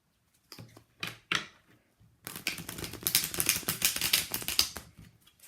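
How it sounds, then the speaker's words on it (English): Tarot cards being shuffled up close: a few soft taps and slides, then a dense, rapid riffling flutter lasting about three seconds before it stops. "Shuffle one more time."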